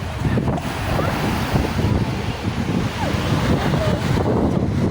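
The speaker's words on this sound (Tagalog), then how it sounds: "Lakas ang hangin." Strong wind at a beach resort buffeting the microphone with a constant low roar, surf washing faintly beneath, loud and unbroken throughout.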